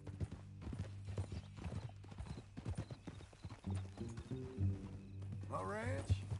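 Horse hooves clip-clop steadily on the ground in the video game Red Dead Redemption 2, a close, rhythmic trot running under ongoing conversation, with a brief whinny near the end.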